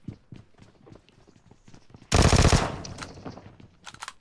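Gunfire in PUBG, a loud sustained burst of rapid automatic shots erupting midway, preceded and followed by scattered soft clicks and game sounds.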